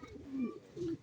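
A fairly large pigeon coos twice, close and clear, in short low throaty phrases with a pause between them.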